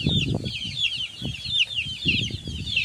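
Tornado hatch chickens of the Mt. Banahaw line cluck repeatedly at close range, with short irregular bursts of low-pitched calls over a constant high-pitched background hiss.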